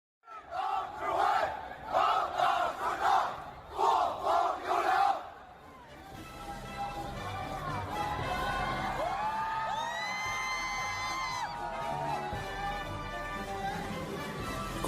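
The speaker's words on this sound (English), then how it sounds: "You can hear the Russians around praising them and screaming, and they're all prepping and singing the songs" Russian crowd at a Victory Day parade rehearsal shouting rhythmic chanted cheers in bursts, then a continuous roar of mixed voices, whoops and singing, loud and dense throughout.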